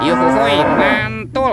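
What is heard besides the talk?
cow mooing, toy animal sound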